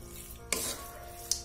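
Carrot halwa with chopped raisins being stirred in a pan, a soft scraping and sizzling texture with two sharper scrapes of the spoon against the pan, close and steady, no talking.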